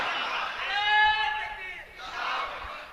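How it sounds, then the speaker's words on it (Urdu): A crowd at a religious sermon roars out a chanted slogan, a loud swelling collective shout that rises, fades briefly, then surges again. "نعرے بھائی تھوڑا کم کریں ذرا"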